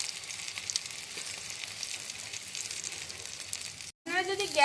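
Masala-coated fish fries slowly over low heat on a tawa, a steady soft sizzle and crackle throughout, briefly cutting out near the end before a voice begins talking.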